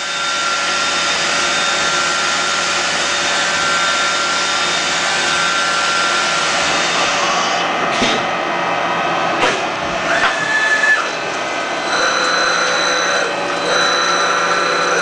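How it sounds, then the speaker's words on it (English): Loud continuous CNC milling noise as holes are drilled in a metal part, a high whining spindle and coolant hiss, with brief sharp clunks and tonal shifts as drilling proceeds. "Now we're drilling them."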